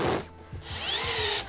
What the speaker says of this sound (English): I'm just very excited that this drill is working better.